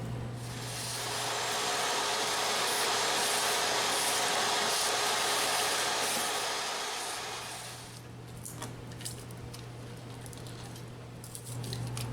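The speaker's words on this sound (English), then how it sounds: "I'm going to grab the shop vac and vacuum it up" A shop vac runs steadily for about eight seconds, a loud close whooshing roar sucking debris from a Honda Civic air filter box, then cuts off and leaves faint rustling and handling noises.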